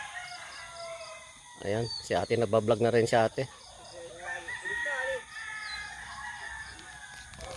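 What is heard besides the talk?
chickens clucking and rooster crowing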